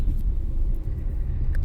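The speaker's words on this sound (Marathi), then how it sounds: "सरांच्या कारनेच आपण जातोय." Inside a moving car heading to a wedding, a low steady engine and road rumble drones close and continuous for a brief moment, without talk.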